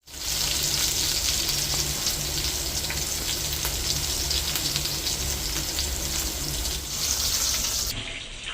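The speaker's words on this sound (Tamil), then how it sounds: "கத்திரிக்காய் பொரிச்செடுப்பேன்" Brinjal (eggplant) pieces fry in hot oil with a loud, steady, close sizzle and crackle that runs unbroken, easing slightly near the end.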